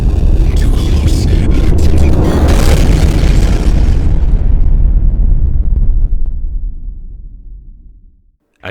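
A space shuttle explodes in a film: a loud, dense blast that rolls into a deep rumble and slowly fades over several seconds before the sound cuts off abruptly.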